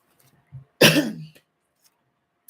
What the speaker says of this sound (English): forgive me for my little cough